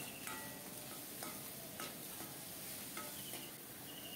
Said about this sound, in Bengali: চিংড়ি মাছগুলো লবণ হলুদ দিয়ে লাল লাল করে ভেজে নেব